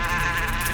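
Bees buzz around a beehive in a dense, steady, close drone with no pauses, loud and continuous throughout a brief moment.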